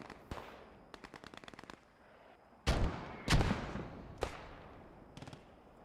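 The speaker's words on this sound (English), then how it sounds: "German artillery right now, right on the center" German artillery fire and machine-gun bursts in the World War II shooter game Post Scriptum: a rapid rattle of automatic fire, then several heavy booming artillery impacts with rolling tails, some near and loud, others fainter.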